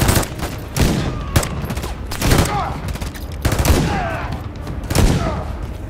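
Sustained automatic gunfire in Call of Duty: Modern Warfare 3 during a frozen tundra campaign battle, loud overlapping bursts with sharp shot transients and whizzing sounds.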